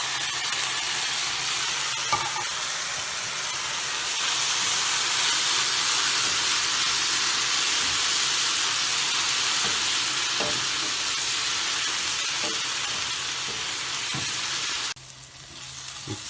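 Tomato puree sautes with masalas in a pan for a rajma curry, a steady close sizzle and hiss with occasional stirring clicks, cutting off near the end.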